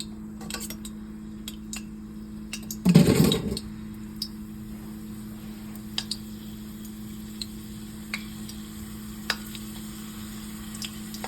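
Diamond cuts snacks frying in hot coconut oil, a brief loud burst of sizzling as pieces drop in, then a steady low crackle with scattered light clinks of a utensil stirring the pan.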